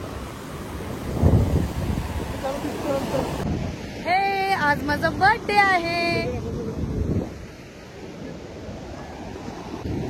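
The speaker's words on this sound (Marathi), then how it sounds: "तर तुम्हाला दाखवते काय फोर्स आहे लाटांना" Sea waves surge and crash onto Devgad beach, a steady broad roar with wind buffeting the microphone, while someone talks over the surf through the middle stretch.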